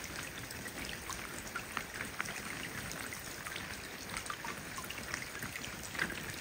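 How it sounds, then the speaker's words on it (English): Rain falls steadily on a woodland campsite during a cold June canoe-camping trip, a dense, even patter and hiss with scattered sharper drops throughout, fairly quiet and with no voices. "Rain."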